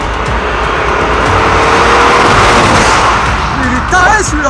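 Audi car engine roaring steadily at high speed, loud and continuous with rushing road noise, ending in a faint tire squeal.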